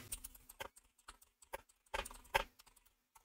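Someone types a search on a computer keyboard in short irregular bursts of crisp, close key clicks with quiet gaps between them.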